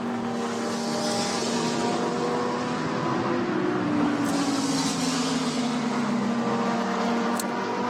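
GT race cars in the Blancpain GT World Challenge Asia race at the Shanghai circuit, a loud, steady engine roar whose pitch slides downward as a car passes, continuous throughout with no talk.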